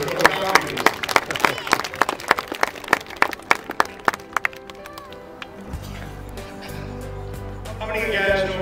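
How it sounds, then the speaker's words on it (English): Crisp, sharp clapping from an audience at a school motivational event greets speaker Tom Ingles for about five seconds, then gives way to a low hum and softer room sounds. "Warm round of applause for Tom Ingles."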